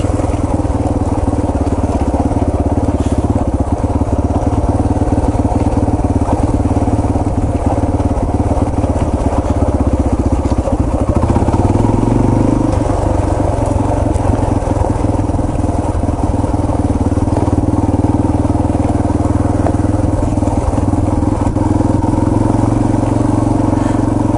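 A Yamaha TT-R230 dirt bike riding trail G40 at Windrock Park in low gear, its engine droning loud and steady throughout with a constant rumble and light clatter, close up and without any talking.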